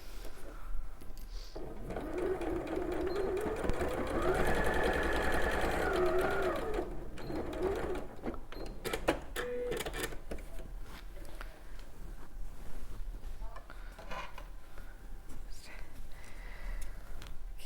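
A sewing machine top stitching an apron dress runs in a steady whirring burst for several seconds, then stops, followed by scattered handling clicks and rustles of fabric close by.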